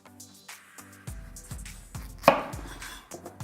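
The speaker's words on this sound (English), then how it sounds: "Time now to cut up the squash. We'll top and tail it." A knife chops through a squash on a cutting board, taking off the top and tail in several sharp, close thuds at a steady pace with one louder crack, and no voice over it.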